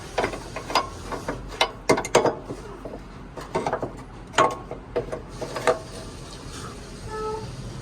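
A hand ratchet tightens the bolts of a car's engine mount in repeated short bursts of rapid metallic clicking, near and fairly loud, separated by brief pauses.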